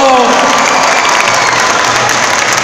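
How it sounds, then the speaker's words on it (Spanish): A fan convention crowd claps and cheers loudly and continuously for a volunteer on stage, a dense roar of applause with shouts mixed in throughout. "Un aplauso a la víctima número uno."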